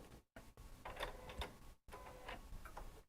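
A home embroidery machine stitches a quilt design, a faint mechanical whir with rapid ticking needle strikes that stops briefly twice and then resumes.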